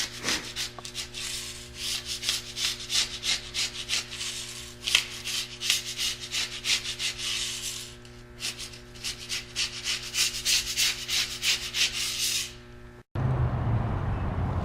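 A thick concrete paint coating is scraped off a floor after being loosened with Endurable Power Stripper. The rapid, rhythmic rasping strokes are close and moderately loud, pause briefly near the end, then stop.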